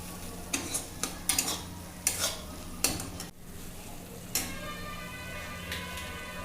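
Spice paste and garlic fry in a pan while a spoon stirs and scrapes in uneven bursts, with a soft, steady sizzle underneath, recorded close in a village kitchen in Assam.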